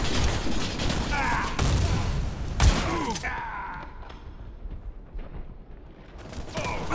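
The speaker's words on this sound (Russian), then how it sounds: "Осторожно, граната! Кидаю гранату!" In the video game Warface, a grenade goes off as a heavy burst and rumbling blast that fades into a creaking, groaning tail, with dense gunfire clatter leading up to it.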